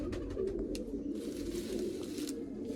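Pigeons coo in a steady low murmur at close range, soft overlapping calls carrying on without a break.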